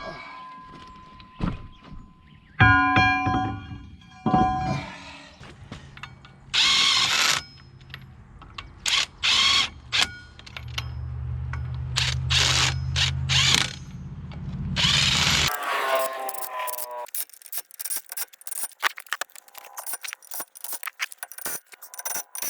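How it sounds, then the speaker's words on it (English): Sprocket being bolted onto a Komatsu PC120 excavator final drive: bursts of power tool whirring, metallic clanks and rattling at close range, some of them loud, ending in lighter clinks. "So the next step would be to get this sprocket bolted to the final drive."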